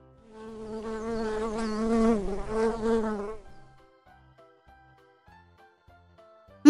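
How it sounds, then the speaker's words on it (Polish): A bee buzzes steadily for about three seconds, a close, wavering drone that rises and falls slightly before fading to silence, followed by a brief bright chime at the end. "Pszczoła."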